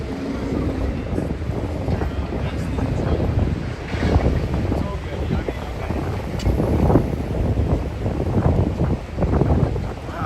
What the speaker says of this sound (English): Wow, it's windy over here.